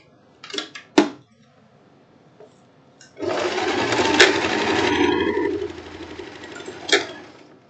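A sewing machine runs a continuous stretch of whirring stitches along a blouse shoulder seam. A few clicks and clacks of handling come before it, and one more knock follows; the machine sounds close.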